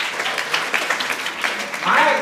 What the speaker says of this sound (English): Round of applause for Raghavendra.